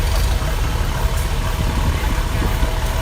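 A 1954 Super MTA antique tractor runs in an outdoor parade, its engine a steady low loping rumble at close range, continuous throughout and loud.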